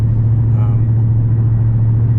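A 2017 Dodge Challenger T/A with a COMP 274-cammed 5.7L Hemi V8 cruises calmly on the highway. A steady, low engine rumble and road drone hold constant throughout.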